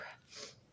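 A single short sneeze, quiet and somewhat distant, with a breathy burst of air and no other voices.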